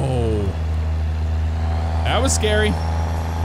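A truck drives toward the car in its own lane on a rural road near harvesters, heard as a steady engine and road rumble inside the car with a brief swelling pass around the middle, while a voice speaks.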